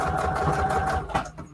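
A sewing machine stitches through paper with turquoise thread in a quick, steady mechanical whir that slows and stops after about a second.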